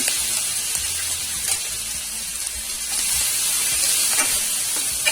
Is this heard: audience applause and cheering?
no